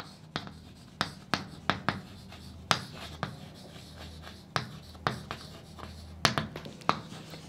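Formulas being written on a board, a sparse series of sharp taps and scratchy strokes at irregular intervals, close and quiet with no speech.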